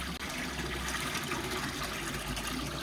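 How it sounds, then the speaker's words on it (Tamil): Water is poured into a guppy fish tank outdoors, a steady continuous splashing gush that sounds close and moderately loud, with no talk. "ஃபுல்லாக ஊற்றிடு."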